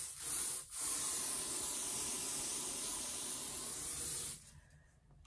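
Spray bottle misting onto a lace wig, a long continuous hiss lasting about four seconds with a brief break near the start, close up and alone.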